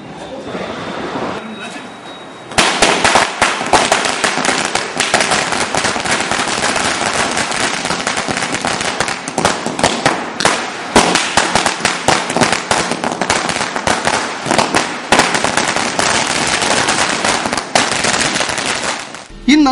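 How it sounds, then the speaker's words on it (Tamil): Firecrackers burst in a dense, loud, continuous crackle during Diwali celebrations, rapid pops packed together for most of the stretch after a brief quieter opening. "சிறியவர்கள் தொடர்ந்து பாதுகாப்பாக பட்டாசு வெடித்து பொழுதை கழித்தனர்"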